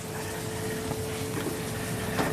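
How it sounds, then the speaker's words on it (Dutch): Salsify pieces deep frying in a fryer at 150 degrees, a close, continuous bubbling and sizzling hiss of hot fat that holds steady throughout. "Ja, dit gaat in de frituur."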